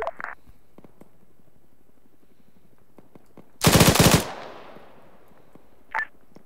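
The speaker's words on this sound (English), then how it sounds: "I'm taking small arms fire, I don't know where from, but it's piercing my window." Small arms gunfire in the video game Arma 3 comes as a loud, brief, rapid automatic burst after quiet ambience, followed by a single short shot a couple of seconds later.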